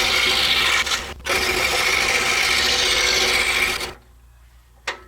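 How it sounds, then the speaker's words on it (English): A saw fitted with a number 7 reverse tooth blade cuts through half-inch plywood with a close, steady rasping buzz, breaks off briefly once, then stops, leaving a quiet room with one short scrape. "that blade will do you just fine for cutting through 1/2 inch ply"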